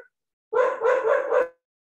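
Dogs bark outside in a short burst of three or four quick, fairly loud barks, heard alone against silence.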